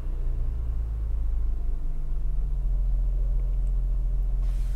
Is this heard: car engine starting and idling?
yes